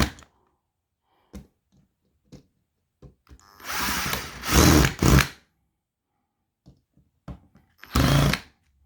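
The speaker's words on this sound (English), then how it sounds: "now we're gonna fasten this to the ceiling with these two large screws" A power drill driving two large screws through a mounting plate into a ceiling, heard as short trigger taps and then two longer whirring bursts that bog down under load, with silence between.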